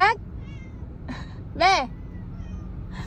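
Several cats meow indoors in a new house: two clear wavering meows and fainter ones, loud and close, with a person's voice briefly heard among them.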